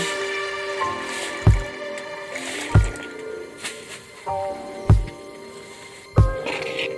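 Water is added little by little and mixed into cauliflower batter of flour and spices, giving several wet squishing slaps at roughly one-second intervals, close and moderately loud, with faint background noise.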